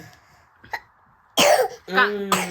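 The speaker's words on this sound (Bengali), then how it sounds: "ডাক্তারকে বলো আমার কাশি হচ্ছে" A person gives a few harsh coughs and throat clearings indoors, starting with faint short sounds and then louder bursts close by.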